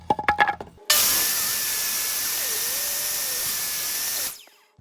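A table saw whines up and cuts through a cedar fence picket for about three seconds, loud and close, after a few brief clunks, then stops abruptly.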